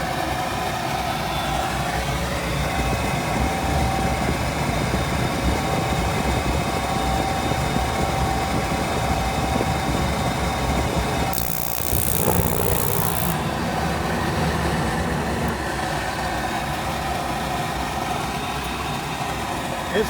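A Goodman gas pack furnace runs after igniting, producing a steady, rattly, rumbling burner and blower drone heard up close, with a brief hissing surge partway through.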